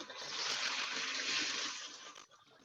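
Water rushing and splashing steadily in a kitchen pot as dry pasta goes in for Cajun chicken pasta, a continuous broadband gush lasting about two seconds before dropping off to quieter trickling.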